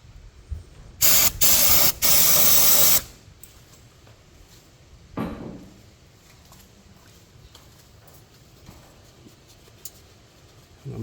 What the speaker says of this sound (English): I'm going to go ahead and spray some brake clean around that fill plug and wipe it off